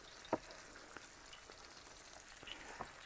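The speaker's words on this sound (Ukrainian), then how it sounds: "І відправляємо нашого карасика на садж. Ах, як захварчав і запах." Crucian carp frying in a pan, a quiet steady sizzle with a sharp pop near the start and a few faint crackles afterward, no voices.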